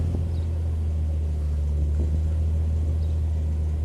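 A BMW Z3 with an automatic gearbox idles steadily on old fuel after a new coil pack fit, a close, continuous low engine rumble that holds an even rev without clear throttle blips.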